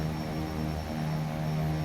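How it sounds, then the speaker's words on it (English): Turboprop airliner engines and propellers drone steadily inside a flight simulator game, a continuous hum with unsynchronised props and a strong tonal buzz, even and unbroken throughout. "Jeremy Harvey, does this airplane have prop sync? If so, it doesn't sound like it's on"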